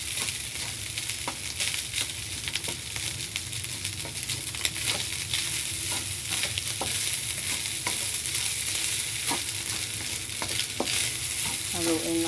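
Food being stirred in a hot cooking pan, a loud, continuous sizzle with regular scraping strokes of a spatula throughout.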